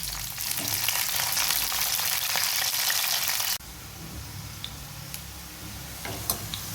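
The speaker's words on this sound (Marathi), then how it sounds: "आपली गोबी जी आहे अशी गोल्डन कलरवर फ्राय झालेली आहे" Cauliflower florets frying in oil to a golden colour for dhaba-style mixed vegetable curry, a steady loud sizzle that drops to a quieter crackle partway through, with a few ticking pops and light clinks, no talking.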